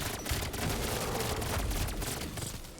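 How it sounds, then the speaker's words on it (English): Akimbo burst pistols fire in Black Ops 7 Zombies, a dense continuous clatter of rapid gunshots with explosive game effects layered throughout, loud and without pause. "That is the Akimbo burst pistols inside of zombies"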